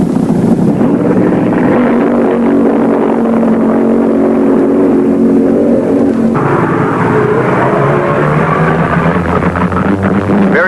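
Barry Setzer's Chevy Vega funny car roars down a drag strip, a loud continuous engine blast with a shift in tone partway through, heavy and close with wind-like rush, no voices.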